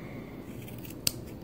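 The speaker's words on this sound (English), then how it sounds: "Now I just take my scissors" Scissors snip crochet yarn in a single sharp, close cut against quiet room tone.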